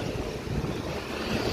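A breeze blows across the Pasig River esplanade in Manila. Steady broadband wind rushes and buffets the microphone with no speech, and could be mistaken for distant surf.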